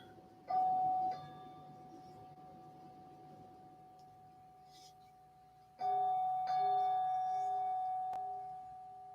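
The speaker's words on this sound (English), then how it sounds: "the sound of the bell" A ritual bell rings twice during a puja, each strike a clear sustained metallic tone that lingers and fades before the next, quiet and close in a still room.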